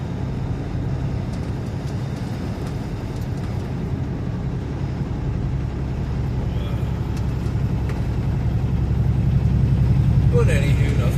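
A truck rolls along a snow-covered highway in the morning, its steady low engine drone and road rumble continuous and close, swelling slightly louder toward the end.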